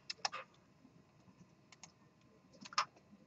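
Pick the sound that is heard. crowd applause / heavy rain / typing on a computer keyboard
typing on a computer keyboard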